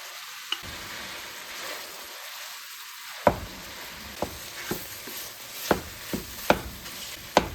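Cooked rice tipped into a hot pan with set scrambled eggs and shrimp gives a steady low sizzle, broken by sharp spatula scrapes and clacks that come faster in the second half.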